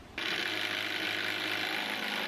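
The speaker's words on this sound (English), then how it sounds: "find a level, and get it screwed in" A screw is driven into a wooden front-porch post with a power driver, one loud, continuous whirring, ratcheting burst lasting about two seconds, close up.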